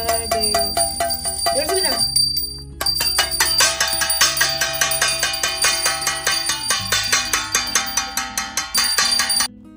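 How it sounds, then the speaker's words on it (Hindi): Temple prayer bell and a metal plate struck together during a midnight Janmashtami festival celebration at home, producing loud, continuous rapid metallic ringing and clanging that runs throughout without pause. "घंटी बजाई, थाली बजाई"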